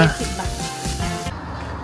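Pork sizzles and crackles on a hot tabletop grill, a dense close-up frying hiss with some stirring clatter.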